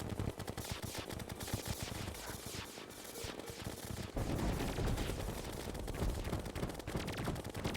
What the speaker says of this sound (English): And I am shooting